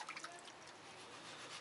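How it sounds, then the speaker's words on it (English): Water pours out of a gold pan in a steady, faint liquid splash and trickle lasting a moment, with no voices. "I'm pouring all the water out."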